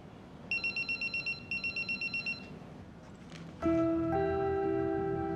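An indoor telephone rings in a fast repeated electronic trill, two bursts of rapid pulses, followed by a brief pause and then a steady sustained tone, close and clear without speech.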